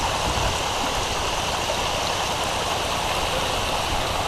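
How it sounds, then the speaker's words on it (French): A waterfall at Langkawi, Malaysia rushes in a steady, dense wash of falling water, continuous and fairly loud with no other sounds. "nous sommes dans les plus belles cascades de Langkawi"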